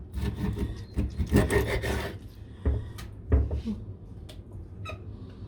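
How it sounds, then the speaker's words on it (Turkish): A knife cutting and scraping a fish, rough rasping strokes in a dense run at first, then scattered sharp scrapes and taps with pauses between. "Valla arkadaşlar dediğim gibi ilk defa evet, balık kesiyorum"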